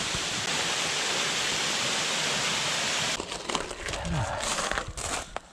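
Secret waterfall at Llanwonno, South Wales, a steady broadband rush of falling water held for about three seconds, followed by closer crinkling and rustling handling noises over the continuing water.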